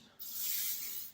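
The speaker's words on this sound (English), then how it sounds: "hairspray." Short hiss of hairspray from an aerosol can sprayed onto hair while styling beachy curls, a single soft burst lasting about a second, close and fairly quiet.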